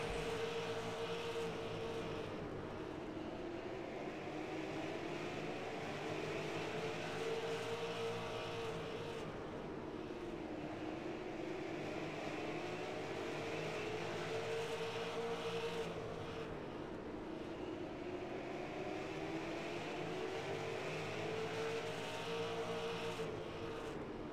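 Stock cars race at Southern Motorsports Park, engines droning and swelling in pitch as cars sweep past again and again in a continuous, distant roar.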